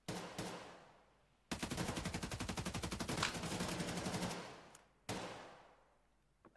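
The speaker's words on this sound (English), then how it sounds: "Shots ringing out back and forth. The beautiful sound of the AK-12." Rapid automatic AK-12 rifle fire in a competitive video game match, with a sustained burst of fast, evenly spaced shots between shorter single bursts, loud and close, exchanged back and forth.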